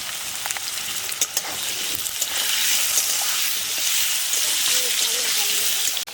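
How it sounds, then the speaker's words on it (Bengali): Potatoes fry in a pan with turmeric and salt, giving a steady, loud, dense sizzle that runs unbroken throughout, with a few faint clinks near the start. "সামান্য হলুদ গুঁড়ো দিয়ে দিলাম সামান্য নুন দিয়ে দিলাম দিয়ে আলুগুলোকে লাল করে ভেজে নেব"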